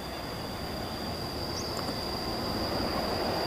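Passenger train running from Gambir toward Surabaya Gubeng passes by as a steady, continuous rumble and wheel noise, with a thin high whine held throughout, no voices.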